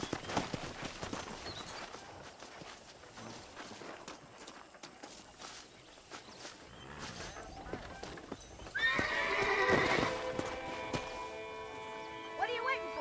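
A horse in the western video game Red Dead Redemption clip-clops along with steady hoofbeats under characters' talk, then lets out a loud, drawn-out whinny near the end.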